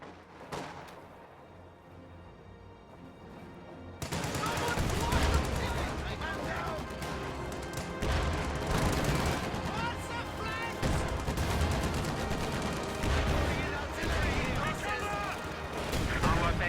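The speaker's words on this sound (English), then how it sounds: "Time on target artillery into the Ostia base." Artillery barrage in a real-time strategy game aimed at an enemy base: a steady wash of repeated booms and gunfire crackle rises loud after a quiet start, with a commentator talking throughout.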